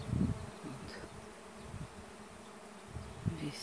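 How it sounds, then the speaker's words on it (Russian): A secondary honeybee swarm pours out of its hive, a soft continuous buzzing hum with a few louder close passes of bees, fairly quiet and heard alone without voices. "Вот как бы рой идет сюда."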